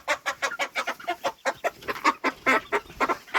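Chickens cluck in a rapid, steady run of short notes, close by, with a rooster among them and no one speaking.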